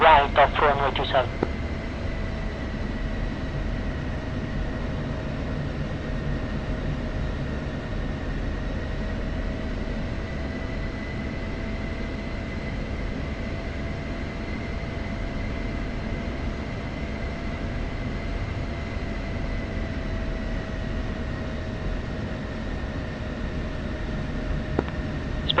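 An F-16C jet taxis on runway 27 in the DCS flight simulator, producing a steady, unbroken engine drone with a sustained whine and low rumble that holds constant throughout.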